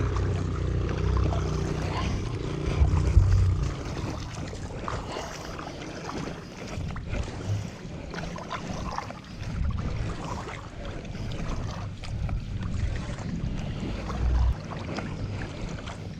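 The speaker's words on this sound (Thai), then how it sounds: "ที่พักนะครับมีเรือคายักให้พายฟรีนะครับ" A kayak is paddled on clear sea water off Koh Kood at Ban Khlong Mad, with intermittent soft splashes and water movement under gusts of wind buffeting the microphone.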